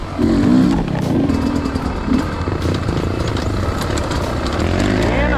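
A trail motorcycle's engine runs at a low, uneven idle on a steep dirt descent, chugging and clattering steadily up close with faint rustling around it.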